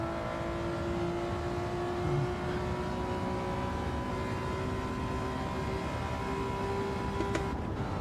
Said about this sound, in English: Do you hear it just step up the revs as it hits the end of the rev bar?